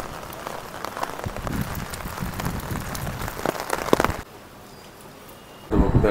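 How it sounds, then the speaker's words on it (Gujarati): Steady rain falls on a housing society in Surat, a dense, close hiss of drops on surfaces that suddenly drops to a faint wash, then swells loud again at the end. "વરસાદ ચાલુ જ છે."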